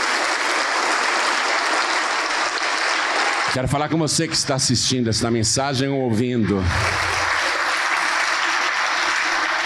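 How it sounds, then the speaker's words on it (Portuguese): Congregation applauding at an evangelical religious broadcast, sustained loud clapping that drops away while someone speaks in Portuguese, then swells again and carries on alone. "Vamos aplaudir mais, está chegando mais."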